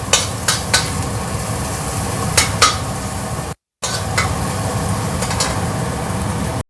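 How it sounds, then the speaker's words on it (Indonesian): Garlic and chili sautéing in a pan give a steady sizzle, with a few scraping clinks of a utensil and a brief silent break midway. "Pertama bawang putih sama cabai masuk. Tumis sampai wangi pelan-pelan ya."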